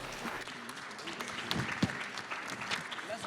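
Audience applause for a transport start-up contestant at a trade-show pitch event, dense steady clapping for a few seconds with a murmuring crowd mixed in.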